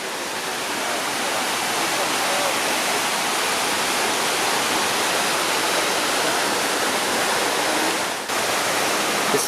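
Water pours steadily into the sunken memorial pool in Lower Manhattan, New York City, making a loud, constant rushing roar that stays unbroken throughout with no voices.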